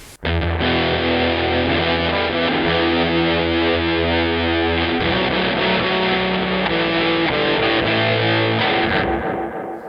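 Heavily distorted electric guitar chords through a pedal board, recorded via a Focusrite iTrack interface, ring out loud and sustained, colored by effects, with a chord change partway through.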